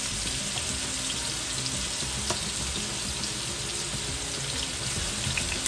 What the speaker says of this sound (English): I'm gonna go ahead and drop my onion, my green seasoning, and my Wiri Wiri pepper